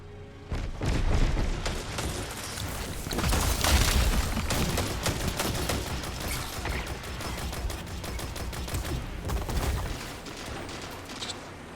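Rapid gunfire and booming explosions from a Destiny 2 multiplayer zone-capture match, a dense, continuous barrage of shots and blasts running loud throughout with no pauses.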